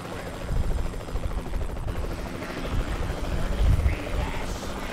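A helicopter in the video game Lollipop Chainsaw gives a steady, loud rotor drone with a low thumping pulse and breathy wind-like noise that continues throughout.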